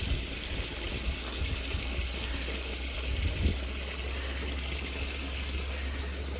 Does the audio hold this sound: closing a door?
no